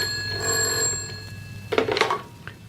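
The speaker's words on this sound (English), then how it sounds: "The phone must have rung a few minutes after I left." A telephone bell rings steadily in a BBC radio drama scene, a sustained bright ringing tone through the first half, then clattering handset pickup noises as the ring stops.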